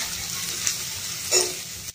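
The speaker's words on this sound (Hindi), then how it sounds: "तेल गर्म हो गया है, अब मैं इसमें ये प्याज डाल देती हूँ" Chopped onions hit hot oil in a pan for masala noodles, giving a soft, fairly faint sizzle with a couple of brief spikes as the pieces land and are stirred.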